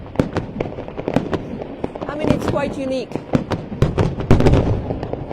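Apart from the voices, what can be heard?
fireworks on July 14 in Saumur, Loire Valley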